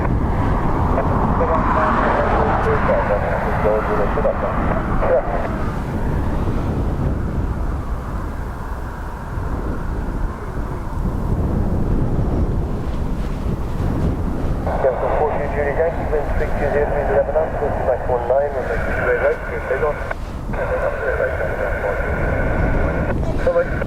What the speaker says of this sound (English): That is the ATR cleared to take off on ATC.